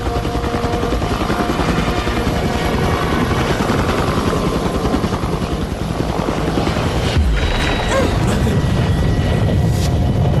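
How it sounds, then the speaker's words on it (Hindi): A loud helicopter close by, its rotor chopping in a fast steady rhythm over a heavy engine whine throughout. "देखो वो हेलीकॉप्टर है।"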